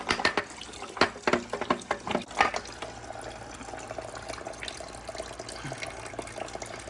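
Coolant draining from a car engine with a broken water pump, a trickling, splashing flow with irregular drips, loudest at first, then settling into a quieter steady run.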